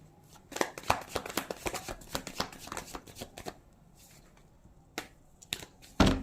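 Tarot cards are shuffled by hand in quick riffling bursts of crisp, papery slaps, close and clear, with a brief pause before a final sharp snap.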